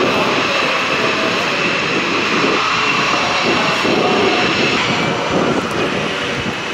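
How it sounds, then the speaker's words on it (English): Blue Angels jet aircraft engines running at the Melbourne air show, a loud, steady, broadband roar that holds without pause and swells slightly, heard up close with no voices. "They're firing up the Blue Angels out there now."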